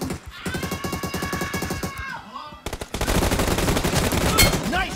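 Rapid automatic gunfire crackles in PUBG Mobile, first as a fast regular burst of close shots, then after a brief gap as a denser, louder volley, with faint electronic tones and a voice briefly underneath.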